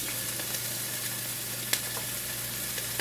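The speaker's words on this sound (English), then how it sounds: "I'm going to put my peppers in, and we're going to get those sauteing first" Peppers sauteing in bacon fat for a low-carb squash casserole give a steady, even sizzle close by, with one brief sharp pop partway through and no talking.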